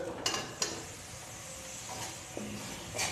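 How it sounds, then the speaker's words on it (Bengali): Boiled jackfruit being stir-fried with tomato and spices in a pan, with a low sizzle and several sharp spatula scrapes and clacks against the pan, close and fairly quiet, no talking. "এবার আমি এর মধ্যে মিশিয়ে দিচ্ছি সিদ্ধ করে রাখা এঁচড়"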